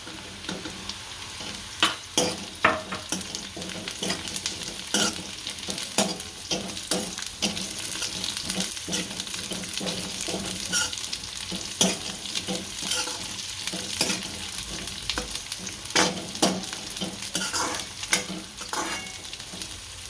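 Onions and carrots fry for roti noodles, a constant crackling sizzle under frequent, irregular spatula scrapes and taps against the pan, close and busy throughout with no voices.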